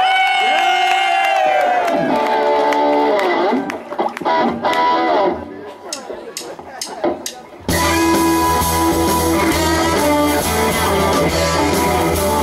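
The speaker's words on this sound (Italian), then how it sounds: "l'urlo della folla." A crowd cheers, whoops and shouts at a live classic rock and blues concert, a loud roar that is quickly overtaken by the full band crashing in with dense, distorted music.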